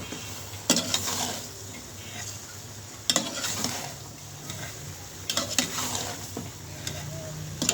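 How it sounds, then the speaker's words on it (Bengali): Chilli chicken stirred and mixed with sauce in a pan, with repeated sharp spatula scrapes and knocks over a low sizzle, close up with no voices. "আমি ভালোভাবে নাড়াচাড়া করে মিক্স করে নেব"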